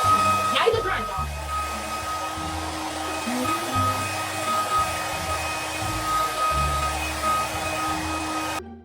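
Hair dryer blowing on a wig during an install, a steady close airflow roar running the whole time with people talking and music underneath.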